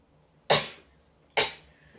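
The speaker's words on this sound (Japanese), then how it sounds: "くしゃみでそう" Two sharp, close sneezes burst out about a second apart, each fading quickly into quiet.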